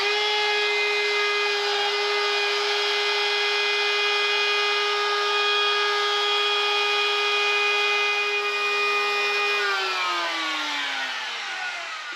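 A router fitted with a 1/4-inch bit carves letters into a wooden sign at a shallow depth, its motor giving a steady high whine that drops in pitch as it spins down near the end, close and alone.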